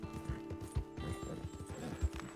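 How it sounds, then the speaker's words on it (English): Wild horses in Red Dead Redemption 2, hooves clip-clopping in an irregular rhythm at moderate distance with snorting and whinny-like calls, set against faint game ambience. "Some wild horses here."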